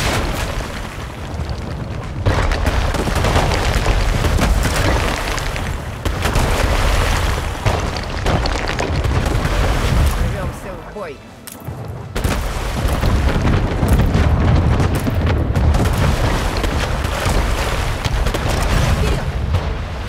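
Cannon fire and explosions roar during an assault on a port in the strategy game Anno 1800, a dense, loud barrage of booms and rumbling blasts that dips briefly near the middle before resuming.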